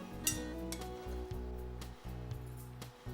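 Onions dropped into melted butter in a pot for apple-syrup onion soup, with a soft steady sizzle under bright metallic clinks of a utensil against the pot, repeated every half second or so.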